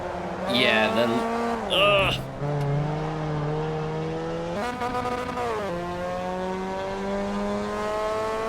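A racing car engine in Assetto Corsa EVO whines and revs, shifting pitch up and down as it accelerates, with brief tire-like squeals early on.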